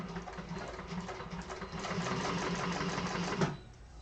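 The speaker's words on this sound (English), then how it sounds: "I'm going to go ahead and chain stitch them" A sewing machine chain stitches a topstitch on a zippered fabric bag exterior, its needle whirring in a fast, even mechanical run for about three and a half seconds before stopping with a soft clunk; the sound is quiet and close.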